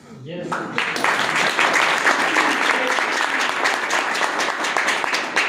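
Audience at a business seminar in Jaitsar breaks into sustained applause, a dense wash of many hands clapping at steady loudness after a brief quiet start.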